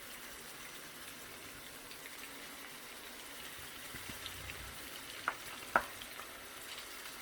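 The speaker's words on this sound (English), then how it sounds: "it's browning the rice-a-roni, rice and noodle stuff" Ground beef and Rice-a-Roni rice and noodles browning in a pan, a faint, steady sizzle with a couple of soft utensil clicks toward the end, no talking.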